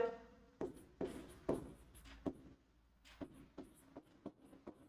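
Pen or chalk writing out a Class 10 trigonometry solution, with short scratchy strokes arriving in irregular bursts over several seconds, close and fairly quiet, with no talk.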